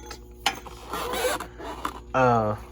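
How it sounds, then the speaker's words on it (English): A squeaky mechanic's creeper under a 1986 Ford F350 crew cab, giving a few short creaks and then one loud, sustained squeal near the end, with workshop clatter and faint rustling in between. "Sorry for this squeaky creeper here."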